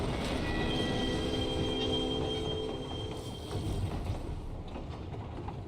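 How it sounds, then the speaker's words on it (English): A train rolls past in Final Fantasy XIV with a steady mechanical rumble, creaking wheels and a sustained metallic squeal that fades toward the end, alone and without talk. "Come on, ride the train, the choo choo, ride it."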